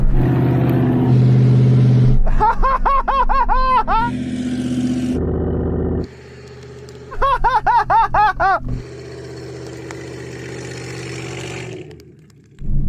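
A Suzuki Jimny and a Hummer H2 accelerate hard from a standing start off-road, engines revving loudly in two rising, surging bursts over a steady mechanical drone, with a lull and a sharp drop at the end.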